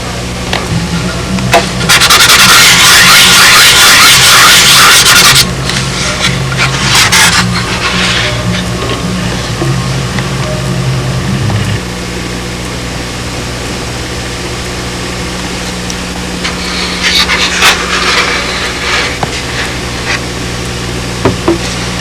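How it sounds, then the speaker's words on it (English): A rotary tool with a parting wheel cuts and sands a model aircraft cowling, a loud harsh grinding burst followed by shorter rasping passes over a steady motor hum. "I like to just take a parting wheel and cut part of it off"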